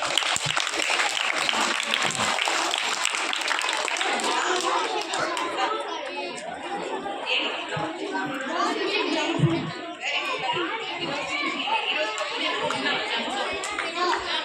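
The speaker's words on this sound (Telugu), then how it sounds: "You clap to him." Schoolchildren clap for a boy during a women doctors' health session, the scattered, uneven clapping mixed with lively chatter and children's voices from a busy room.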